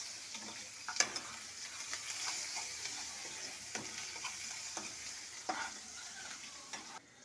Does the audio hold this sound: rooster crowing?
no